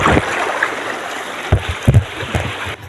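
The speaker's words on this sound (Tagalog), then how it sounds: "agos ng ilog na ito" Rushing, gurgling water from a strong river current as people carry wood across it, loud and near, with a few dull knocks and splashes.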